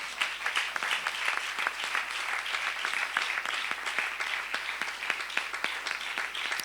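A church congregation claps together during a service, with dense, steady applause of many hands at moderate distance that runs for several seconds without letting up.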